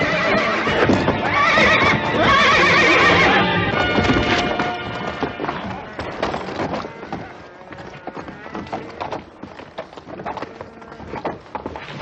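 A horse whinnies loudly and close by over the first few seconds, followed by hooves clattering and thudding in an uneven rhythm.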